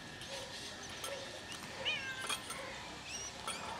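A cat perched up high meows faintly a few times, distant and thin against a steady background hiss.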